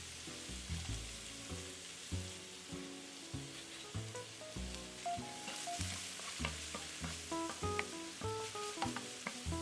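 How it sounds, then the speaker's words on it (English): Chopped onions fry in melted butter and olive oil in a skillet, with a steady sizzle broken by repeated scraping and stirring knocks from a utensil against the pan, close by. "add in your chopped onions and let them cook until the onions are almost translucent"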